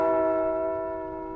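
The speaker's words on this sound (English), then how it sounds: "That is not a bell from in the game." A real bell rings in a room, one sustained struck tone with steady ringing partials that slowly fade, loud and close with no talking over it.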